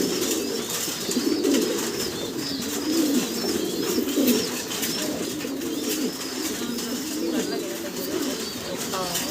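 Pigeons coo steadily in low, throaty rolling calls on a pigeon farm, several birds overlapping close by, with a busy background murmur throughout.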